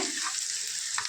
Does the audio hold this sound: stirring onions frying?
yes